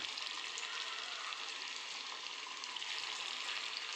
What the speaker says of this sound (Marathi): आता एक एक टिक्की याच्यात सोडतोय डीप फ्राय आपण करून घेणार आहोत